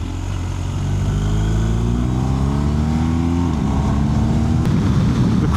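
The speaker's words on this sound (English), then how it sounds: "quick shifter on the 2019 model GS Adventure is a bit clunky" A 2019 BMW GS Adventure motorcycle engine rises in pitch under load, then drops sharply around the gear change with the quick shifter before climbing again, loud and close with steady road and wind noise throughout.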